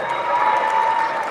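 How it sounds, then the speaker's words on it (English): Audience clapping at a 2018 Central Academy graduation ceremony, a steady dense wash of many hands held at even loudness throughout, with faint crowd murmur beneath. "Let's give her another round of applause"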